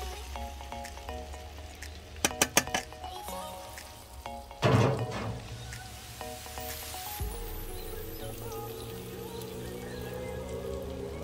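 Prepared vegetables are tipped into a hot pan on an outdoor grill, with a few clatters and a loud sizzling burst that settles into a steady frying hiss.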